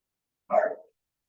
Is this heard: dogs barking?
yes